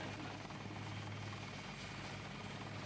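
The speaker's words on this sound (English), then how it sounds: "I suppose we can somehow get rid of this helicopter." A helicopter in the video game Deus Ex: Revision hovers with a steady, even engine drone and rotor hum that stays constant throughout, faint and distant-sounding with no talking.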